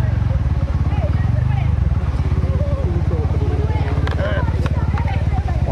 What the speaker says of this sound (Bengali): অনেক বাইক ভাই, প্রচুর বাইক